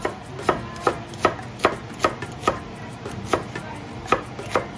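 A knife chops shallots on a cutting board in a steady rhythm of about a dozen crisp, evenly spaced thuds, close and clear with no talking.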